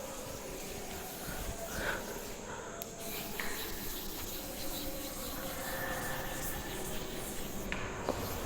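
Eraser rubbing out maths working on a board, a continuous close scrubbing hiss lasting throughout with no talk.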